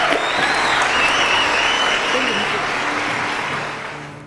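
Audience applause for a singer in a studio show, a thick continuous wash of clapping with some cheering that gradually fades toward the end.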